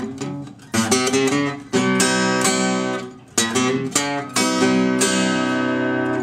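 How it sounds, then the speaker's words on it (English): Acoustic blues guitar plays a quick run up the bass notes in a fingerpicked style, several bursts of rapid picked notes mixed with ringing chords, close and clear with no talking. "he does this quick run up on the bass notes that sound like this."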